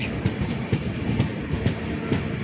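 A train rumbles past at a railway station with a steady clickety-clack of wheels over rail joints, heavy rhythmic thuds repeating about twice a second under a broad mechanical roar.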